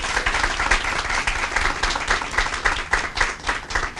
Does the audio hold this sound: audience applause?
yes